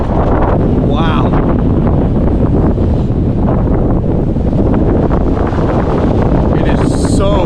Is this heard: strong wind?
yes